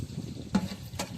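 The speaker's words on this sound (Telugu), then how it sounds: "4 లవంగాలు, వెల్లుల్లి, పచ్చిమిర్చి అన్నీ ఫ్రై అయ్యేదాకా స్టవ్ సిమ్లో పెట్టుకొని ఫ్రై చేసుకొని" Cloves, garlic and green chillies fry in oil on a low flame, giving a steady soft sizzle with two brief stirring scrapes, close and alone.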